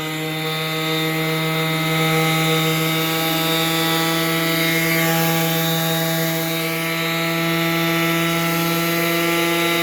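A Festool sander works along the grain of a wood shelf with its dust-extraction vacuum attached, giving a continuous, steady high-pitched whine at close range with no talking.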